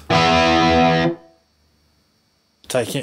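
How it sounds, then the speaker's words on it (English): A single distorted electric guitar power chord rings out loudly for about a second and then cuts off. A voice starts speaking right after. "here is your standard power chord"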